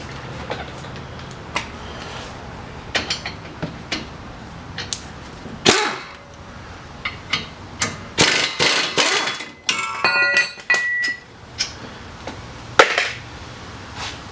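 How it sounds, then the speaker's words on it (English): Sharp mechanical clicks and ratcheting bursts come from work on the front brakes of a 2010-2014 Volkswagen GTI, with a denser stretch of rattling near the middle and scattered clanks of tools close by. "Now we can take the impact gun to it."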